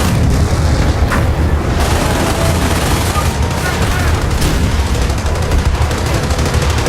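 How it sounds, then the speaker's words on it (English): Mortars fire in a Company of Heroes battle, with repeated booms and bursts of gunfire packed densely together, loud and continuous throughout. "I have my mortars firing on their mortars"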